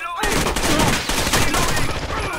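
Rapid sustained gunfire from a firefight in the video game Rainbow Six Vegas 2, dense overlapping bursts filling the whole stretch, loud and close, with faint voices in the mix.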